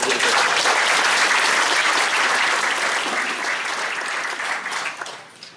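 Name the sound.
audience applause at annual meeting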